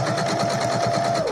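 A home sewing machine runs steadily at close range, a continuous mechanical whir with rapid stitching pulses and a faint motor whine, slowing slightly at the end; it is used for a paper and lace journal.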